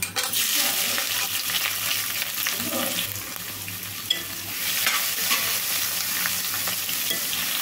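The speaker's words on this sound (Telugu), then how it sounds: "ఉల్లిపాయ కూడా వేగాలండి. కొంచెం వేగడానికి అయితే కొంచెం సాల్ట్ అయితే వేసుకుందాము." Chopped onions frying in a pan after garlic for a ridge gourd and lentil dish, a loud steady sizzle with scraping stirring noises throughout and one sharp knock midway, no one speaking.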